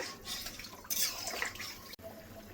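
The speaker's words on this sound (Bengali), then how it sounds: "ঝোলটা ফুটে গেছে, ডিমগুলো দিয়ে দেবো।" Fish roe curry broth boils in a pan with a close, bubbling, splashy hiss, uneven bursts of liquid churning and popping over a few seconds.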